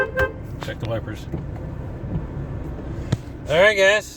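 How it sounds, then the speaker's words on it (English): A 2012 Porsche 987's horn honks in a loud, steady blast near the end, after a stretch of quieter outdoor background. "check the horn"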